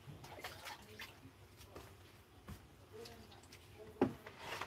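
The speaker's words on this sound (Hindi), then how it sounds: "अभी देखिए मैं इसको वॉशिंग करने जा रहा हूँ" Rubber stamp being washed with water during stamp making, with soft irregular splashing and rubbing, a few light taps, and one sharper knock near the end, all fairly quiet.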